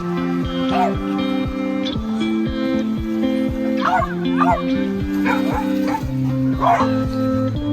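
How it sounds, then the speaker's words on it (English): Several dogs bark and yip repeatedly nearby at a dog beach in Balsam Lake Provincial Park, with a steady background hum and some brief whimpering; a voice talks faintly under the barking. "Dogs everywhere."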